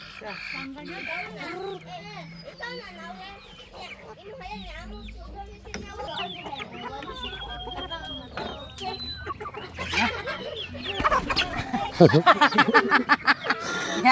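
Chickens cluck repeatedly on a rural farm amid background chatter and children's voices, growing louder and busier toward the end.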